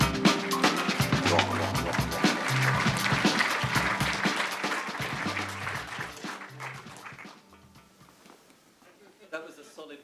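Audience applause at a web browser technology conference, full steady clapping that tapers off and fades to quiet near the end, with a brief voice right at the close.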